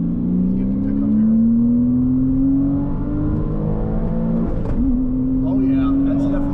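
2007 Porsche Cayman S accelerating from inside the cabin on a morning test drive, engine tone rising steadily through a gear, dropping at a shift, then climbing again, with a driver talking over it.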